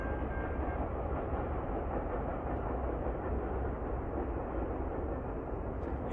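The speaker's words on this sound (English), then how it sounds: "a GEVO locomotive pulling an intermodal train." A GEVO locomotive hauling an intermodal freight train rumbles past nearby at night, a loud, steady roar of engine and rolling wagons with no pauses.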